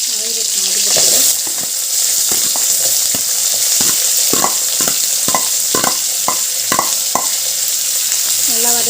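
Onions and green chilli sauté in a hot pan with a steady bright sizzle, broken by a series of sharp, regular scrapes and taps of a spoon stirring, close and loud, with no talk.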